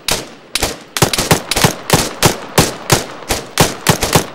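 Rapid gunfire in the military shooter Arma 3 during a battle royale match, a run of about a dozen sharp, loud, close shots in quick bursts with no talk.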